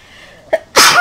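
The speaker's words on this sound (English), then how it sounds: "Gotta sneeze." A Sims character in The Sims 3 gives a single loud, close sneeze, with a short sharp intake of breath and then an explosive burst, alone with no talk.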